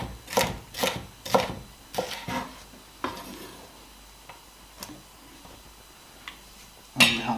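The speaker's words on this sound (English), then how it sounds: "now we have this piece, we just cut it julienne" A knife cuts the white part of a vegetable into julienne strips on a board for a vegetarian fattoush salad. Several sharp, close cutting strokes come first, then sparser taps, and one more loud chop follows near the end.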